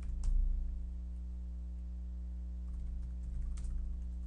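Router configuration commands are typed on a computer keyboard in a short run of faint key taps, set against a steady electrical hum.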